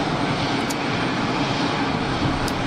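An EasyJet Airbus A220 on a long final approach near Geneva Airport gives a steady, loud, broadband engine roar that holds constant throughout with no talk over it.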